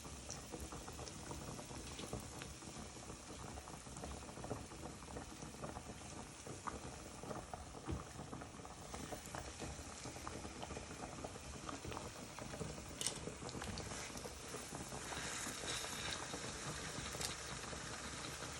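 Buttermilk steaks fry in a pan with a steady, dense bubbling sizzle and scattered tiny pops and spatters, even and moderately faint throughout, with no talking.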